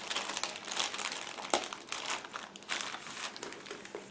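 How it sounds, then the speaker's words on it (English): A plastic bag holding plastic model kit sprues for a 1/35 scale Nagmachon kit crinkles and crackles continuously up close, with sharper crunches mixed into the steady rustling, no voices. "All those plastic frames are packed into the same plastic bag, so I will show you them in a second."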